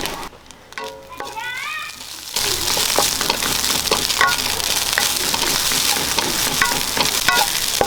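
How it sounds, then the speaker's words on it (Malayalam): Crackling sizzle of grated coconut roasting in a hot pan for an ivy gourd stir-fry starts abruptly and continues steadily, with faint stirring scrapes; a voice speaks briefly before it begins. "തേങ്ങ ഇട്ട് കൊടുക്കാം അതും ഒന്ന് ചെറുതായിട്ടൊന്ന് വറുത്തെടുക്കാം"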